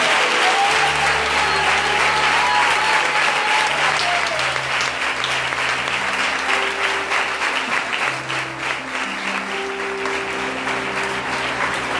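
A large church congregation claps steadily and loudly for several seconds while sustained keyboard chords play underneath.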